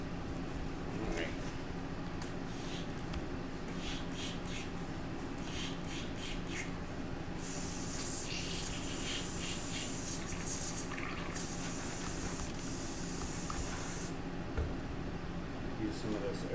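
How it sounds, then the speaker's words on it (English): An airbrush sprays cleaner in a bright hissing burst of several seconds, following quieter stretches of handling noise and low room hum. "Use some of this airbrush cleaner."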